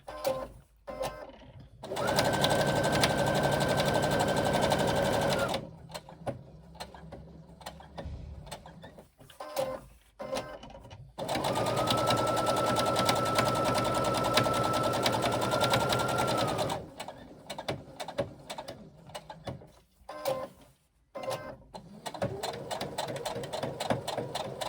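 A sewing machine stitches a wristlet seam in two long steady runs of fast whirring, each ended by short stop-start bursts for reversing, with quieter handling clicks between, close and clear.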